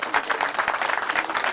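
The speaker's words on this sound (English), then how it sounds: "Please welcome him with a round of applause" A round of applause at a ceremony held at Kuje Prison, welcoming Nigeria's Minister of Interior, with dense steady clapping from a crowd throughout, fairly close and loud.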